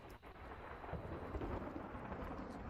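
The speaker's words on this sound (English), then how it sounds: "I can't hear it over the thunderstorm." Thunder rumbles through a steady storm wash, a dense low roar with rain-like hiss sustained throughout, no voices present.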